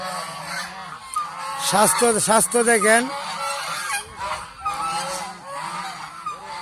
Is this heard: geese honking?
yes